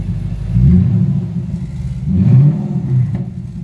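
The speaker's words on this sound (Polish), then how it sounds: "A, no, jak już ogrzany. A to nie jest kupciowa v to jest Infinity v" Infiniti M56x with a V8 engine, already warmed up, giving two deep rumbling revs that swell and fade over a low idle, close and fairly loud.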